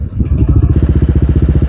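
Honda ADV 160 scooter fitted with a Kenshi Hanzo bass-tone aftermarket exhaust idling up close, a steady, deep, loping pulse with even rhythm and no talk.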